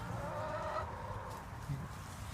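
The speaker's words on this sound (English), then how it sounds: "There's my dumbass rooster in the neighbor's yard." A rooster crows and clucks faintly amid a noisy, muffled background, the bird sounding somewhat distant.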